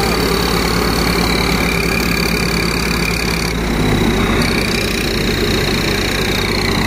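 A tractor-driven Mukandgarh thresher runs continuously, a loud, close mechanical drone with a rumbling engine underneath and a steady high whine, its pitch shifting slightly midway, no speech.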